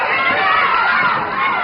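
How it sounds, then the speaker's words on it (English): A packed arena crowd roars and cheers for Jerry Lawler during a 1982 NWA World Heavyweight Championship wrestling match against Ric Flair in Memphis, Tennessee; a dense, loud, continuous wash of shouting and cheering. "Crowd partisan for Lawler, obviously. Trying to cheer him on and get him going"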